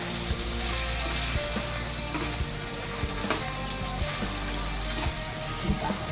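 Pancit noodles frying in a pan, a dense continuous sizzle with small crackles and occasional clicks of stirring, close and steady without any talk.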